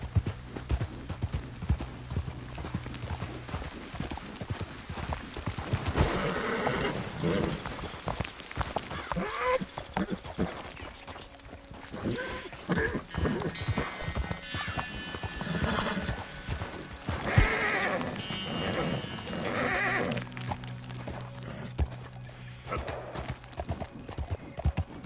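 A horse gallops in Red Dead Redemption 2, with steady clip-clop hoofbeats running throughout and loud neighs and whinnies breaking in. A voice speaks briefly.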